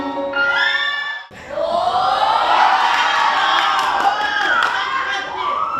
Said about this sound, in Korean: 환호가 너무 커서